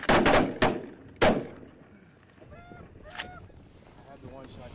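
Shotgun blasts on a waterfowl hunt: three loud, sharp reports close together in the first second and a half, followed by geese honking nearby and a quieter stretch.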